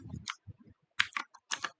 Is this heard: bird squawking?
no